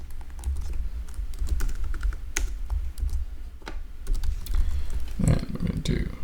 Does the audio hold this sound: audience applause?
no